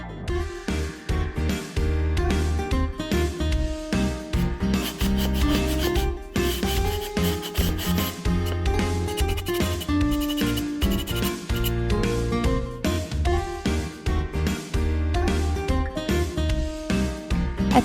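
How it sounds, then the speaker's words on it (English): Steady scratchy rubbing of sandpaper on wooden boards for a drawer organizer, continuous and close, with a tonal musical layer running underneath. "I'm moving on to sanding."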